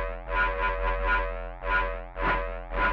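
Neuro bass synthesized in Ableton Operator, with a white noise oscillator slowly fading in under a distorted, effects-heavy tone; steady droning low hum with pulsing, gritty bursts recurring every half second or so, loud and upfront.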